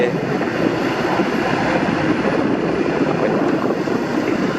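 A Kobelco excavator's turbocharged four-cylinder 16-valve engine runs close and loud, a dense, steady droning roar with a fast, even pulse and no breaks or talk.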